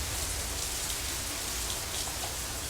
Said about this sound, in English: Raindrops hitting the umbrella make a distinctive sound,